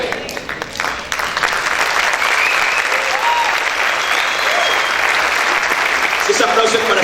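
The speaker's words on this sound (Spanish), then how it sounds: "Si ese aplauso es para el Señor, déselo con ganas, con fuerza." Loud, sustained applause from a church congregation during a sermon, a dense roar of clapping that swells after the first second and holds steady, with voices and cheers mixed into the crowd noise.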